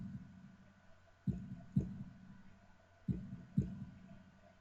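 Heartbeat sound effect from the visual novel Katawa Shoujo: two pairs of low, thudding lub-dub beats over a quiet hum, close and steady, with no talking.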